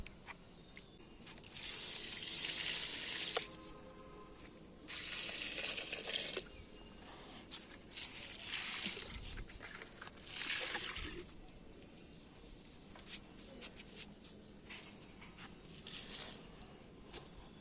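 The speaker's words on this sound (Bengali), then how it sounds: "ছোট ছোটো বালতি করে জল নিয়ে চলে এসছি এবার গাছগুলোতে একটু একটু করে ঢেলে দিই" Water is poured from a small bucket onto garden plants in several separate splashing bursts, near and fairly quiet, with short pauses between pours.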